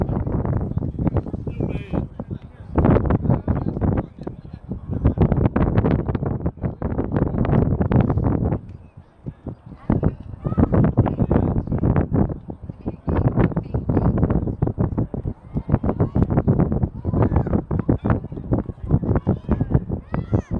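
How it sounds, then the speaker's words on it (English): Strong wind buffets a microphone at the bleachers of an outdoor flag football game, a steady loud roaring rumble running the whole time with gusty fluctuations and muffled crowd or talk underneath. "Very windy"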